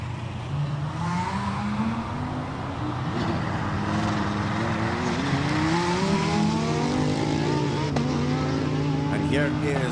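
A two-litre Mercedes A45 race car howls up a hillclimb course at Simola, its engine rising and falling in steady revs under continuous commentary.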